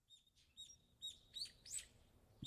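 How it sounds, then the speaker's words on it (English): Birds chirp in a morning scene within a PC video game, several short high tweets and trills arriving one after another, fairly faint and growing slightly busier toward the end, with no talk over them. "I heard the birds chirping."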